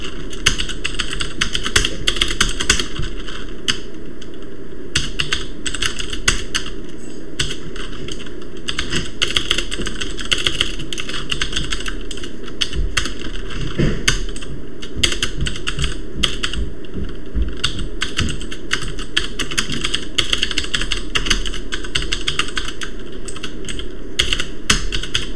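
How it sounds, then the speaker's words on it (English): Rapid keyboard typing clicks away continuously for a long stretch, close and distinct, with an irregular rhythm of keystrokes. "Well, I guess I'm typing."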